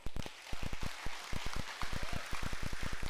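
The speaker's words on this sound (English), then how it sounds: "Clap offering unto the Lord." A Sunday morning church congregation claps as an offering to the Lord, with loud, close, rhythmic clapping in quick repeated bursts throughout.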